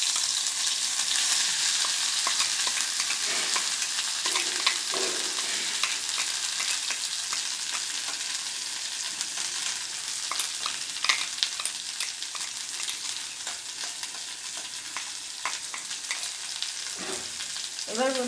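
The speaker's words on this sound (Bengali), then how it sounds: "গ্যাসেতে ওই কড়াইতেই আমি একটু সর্ষের তেল দিয়ে দিয়েছি। আর আমি মিক্সারে বেটে নিয়েছি, আপনারা চাইলে শিলেও কাটতে পারেন। এবারে আমি লাউ পাতা বাটাটা দিয়ে দেবো।" Gourd leaf paste frying in mustard oil in a wok on a gas stove gives a steady, close hiss and sizzle with occasional scraping stir sounds, no voices.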